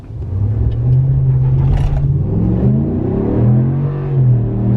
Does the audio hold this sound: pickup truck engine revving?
yes